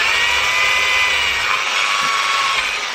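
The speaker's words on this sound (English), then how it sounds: "and then you get a wire brush" A powered wire brush scrubs a bolt clamped in a vise, giving a steady high whirring hiss with a gritty, abrasive edge that runs unbroken for the whole stretch, loud and close.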